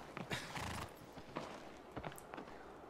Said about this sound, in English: Is that my Aggro? Aggro! My beautiful horsey babe!